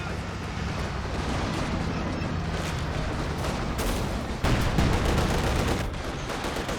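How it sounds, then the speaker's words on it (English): Artillery and gunfire rumble through a Company of Heroes 2 battle, with a steady bed of distant booms and crackling shots and a heavier burst of impacts near the end, under a commentator's voice. "A lot of artillery is running in there, a lot of smoke as well."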